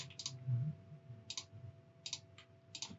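Computer mouse clicks come in small quick clusters while a poster is being laid out, faint and close over a quiet room hum.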